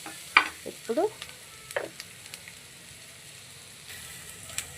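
Chicken sizzling and being stirred in a pan for a curry, a few scraping stirs early on over a faint steady frying hiss, fairly quiet with no talk.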